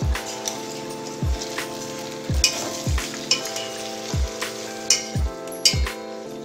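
Vegetable pieces with turmeric and ginger-garlic paste sizzle steadily in a pan on a low flame for sorrel (gongura) sambar, with a regular scrape of stirring about every second over the frying.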